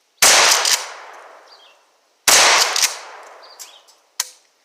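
A Remington 870 shotgun fires two loud, sharp blasts about two seconds apart, each trailing into a long outdoor echo, followed by a short metallic clack.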